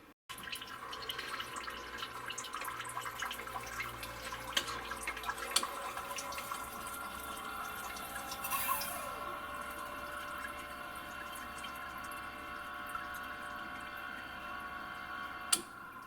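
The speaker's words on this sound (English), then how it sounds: "this is its first use, so that's pumping water in" A Bartesian cocktail machine pumps water on its first use, giving a steady, moderately quiet liquid flow and mechanical hum that runs for the whole stretch, with a few small clicks and drips.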